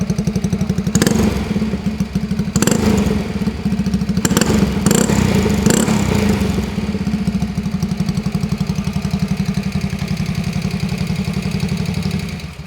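A 1972 Harley Davidson AMF SS350 motorcycle idles with a loud, rapid, steady exhaust putter close by, broken by a few sharp clattering bursts early on, with no talking.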